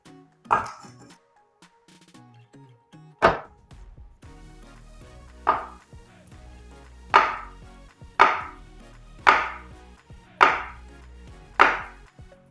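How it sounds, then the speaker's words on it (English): A knife strikes a cutting board chopping tofu in sharp, spaced chops, about eight distinct knocks at a slow irregular pace, close and clear in a quiet room. "And now we're gonna just cut tofu."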